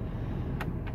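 A 2006 Dodge Ram 3500 with the 5.9 Cummins diesel idles at night with its cooling-system cap off, a steady low rumble that holds level throughout, joined by two short, faint higher clicks near the end.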